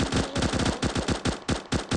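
Rapid automatic gunfire from the video game Chicken Gun, about a dozen sharp bursts in quick rhythmic succession, loud and close.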